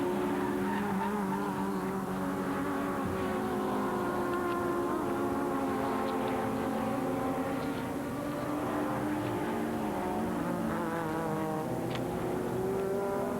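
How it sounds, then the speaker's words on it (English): A BMW 320i touring car racing at Zandvoort in 1997, its engine droning loud and steady with rising and falling pitch as it slides through corners, faint tire noise underneath. "he's looking now to try and catch Lammers, sliding that BMW all over the track"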